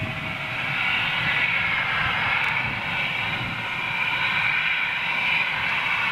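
A passing jet aircraft gives a steady, loud, continuous engine roar and rush with an even level throughout and no voices.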